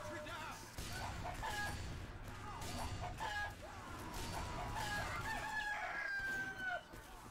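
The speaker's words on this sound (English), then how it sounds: "Cock-a-doodle-doo." Rooster crowing inside the game Team Fortress 2, a few drawn-out crows over game noise and clatter, with a voice talking over it.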